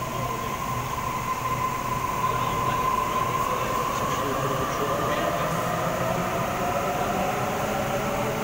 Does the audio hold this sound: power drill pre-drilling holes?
no